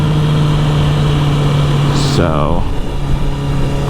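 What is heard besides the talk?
Honda CBR650R motorcycle engine with Akrapovic exhaust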